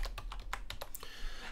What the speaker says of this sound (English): Sorry, my typing's terrible today.